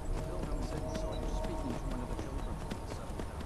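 Horse hooves clip-clop in the Skyrim video game, a quick run of steady thuds on rough ground, close and moderately loud, with someone talking over them.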